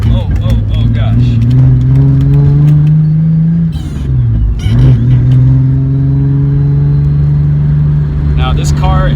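Nissan 240SX S14 with a VQ35 V6 swap pulls away from a start, a loud close engine drone climbing in pitch, dipping briefly at a gear change, then rising again, with people talking over it.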